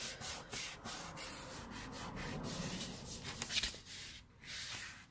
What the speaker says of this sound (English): Then I'm just going to fold it up and just burnish the ends.